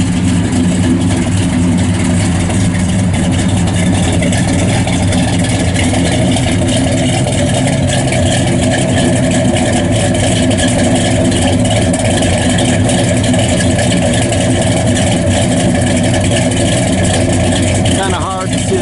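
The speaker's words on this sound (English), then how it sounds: "Nice full dual exhaust out the back, nice throaty cam in it." A 1969 Chevrolet Chevelle SS 396 with a cam and full dual exhaust idles steadily with a deep, throaty low rumble throughout, while a person talks over it.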